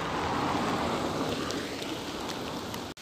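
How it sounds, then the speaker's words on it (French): Heavy rain falls in a dense, steady hiss of drops, close and continuous, with a few louder spatters and a brief cut at the end. "il pleut, et pas qu'un peu"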